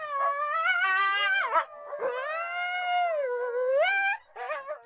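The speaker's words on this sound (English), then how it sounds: "to the sound of howling coyotes" Several coyotes howl together in long, wavering, overlapping cries that rise and fall over about five seconds, close and loud, with brief yips near the end and no talking.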